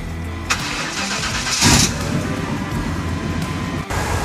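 A 1995 Chevy C1500 pickup's engine cranks and catches after new spark plug wires, then settles into a steady rumbling idle, close and fairly loud, with no talking.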